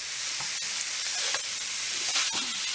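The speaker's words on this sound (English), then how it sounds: "the chop's been browning up for about 4 or 5 minutes on each side, so let's go ahead and give these a turn" Pork chops browning in a hot pan give off a steady, loud sizzle and hiss, broken by a few sharp pops and clatters, with no talking.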